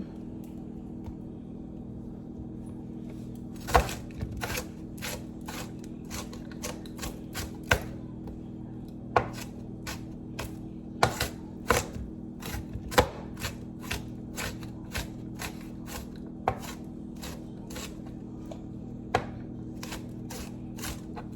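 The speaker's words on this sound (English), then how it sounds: "So I'm gonna make sure I really chop it up" A knife chops finely and rapidly on a cutting board while a keto parmesan bacon meatloaf is being made. The sharp, uneven taps come in quick bursts over a low steady kitchen hum.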